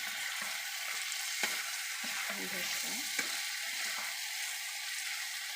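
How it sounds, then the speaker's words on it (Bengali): Young pigeon meat curry frying in oil in a pan after the water has cooked off, a steady close sizzle with a few soft stirring scrapes. "কষানো হয়ে গিয়ে পানিগুলো শুকিয়ে তেল ছেড়ে দিয়েছি আরও একটু ভেজে নেব"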